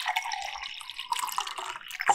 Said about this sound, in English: Gonna refill the water glass